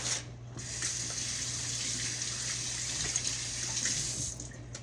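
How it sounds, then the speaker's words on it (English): Hands are washed under a running kitchen tap: a steady, close hiss of flowing water over a faint low hum, with a brief break at the start and then a continuous stream, no talk. "let me wash my hands real quick"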